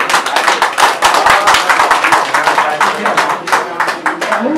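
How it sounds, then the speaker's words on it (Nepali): Members applaud at a village council assembly session, with loud, close, rhythmic clapping that runs steadily throughout and a voice faintly underneath. "ताली बजाइदिनु, ताली।"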